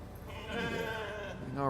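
A sheep bleats in the video game The Alters, a wavering, nasal cry that swells toward the end, heard alongside a voice talking.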